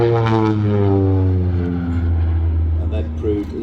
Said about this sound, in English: Another typical strafing pass there by Tony.